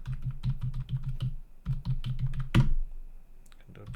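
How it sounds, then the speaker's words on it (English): Rapid keystrokes on a computer keyboard while a password is typed into an SSH login on a Raspberry Pi 5, in two close bursts of even clicks with a louder single tap near the end. "Type the password."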